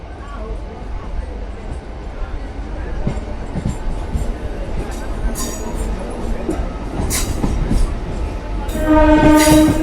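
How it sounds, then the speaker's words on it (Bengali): A local train pulls out of Balgona station with a steady rumbling roll and clatter, and a loud sustained horn blares near the end; voices are heard over the train noise. "আমাদের ট্রেন বেরিয়ে যাচ্ছে বলগোনা রেল স্টেশন থেকে"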